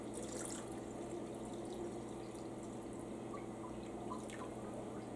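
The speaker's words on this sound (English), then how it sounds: "I need to put some more water in." Water pours and trickles into a crockpot holding a roast beef, a steady, low-level splashing and dripping that runs without a break, close by and unaccompanied by talk.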